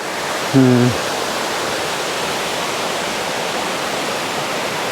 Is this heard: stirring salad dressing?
no